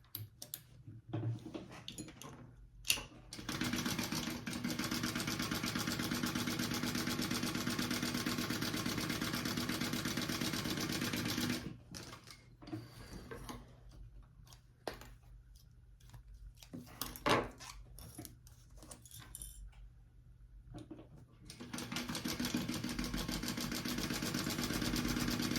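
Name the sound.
sewing machine sewing top and bottom of sling bag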